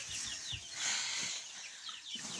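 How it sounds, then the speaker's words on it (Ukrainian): Chickens cluck softly in a farmyard, a few short scattered calls against quiet background noise, with no talking. "Вон кури вже на дворі видзюбали зерно"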